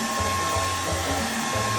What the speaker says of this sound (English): a blow dryer.